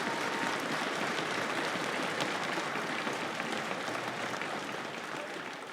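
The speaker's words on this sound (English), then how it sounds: "I would just like to give another round of applause to our high school musicians." Dense, sustained applause from a school celebration audience honouring high school string musicians, a thick wash of many hands that eases slightly toward the end.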